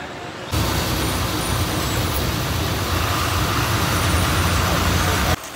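A Maharashtra state transport bus idles at a bus stand on a rainy day, its engine rumbling steadily at close range, a dense continuous drone that cuts off abruptly at the end.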